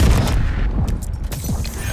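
Rapid bursts of gunfire in Call of Duty Black Ops 6 on PC, dense and loud, with overlapping shots forming a continuous fusillade throughout.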